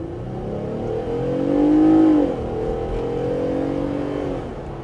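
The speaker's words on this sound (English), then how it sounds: "And now let's see the acceleration." A 2024 Jeep Gladiator Mojave X pickup truck engine revs up loudly and steadily, its drone rising in pitch then leveling off as the vehicle accelerates to about 45; no voices.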